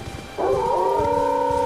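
Wolves howl in the video game Elden Ring on Stormhill, a single rising, wavering howl that starts after a brief quiet and holds steady to the end of the clip, loud and close with no talk.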